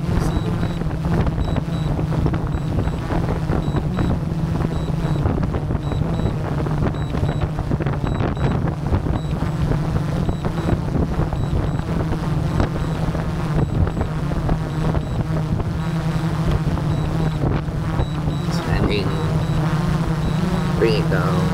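A DJI Mavic 3 drone descends nearby outdoors. Its propellers give a constant buzzing whine, steady and close, mixed with wind rumble on the microphone.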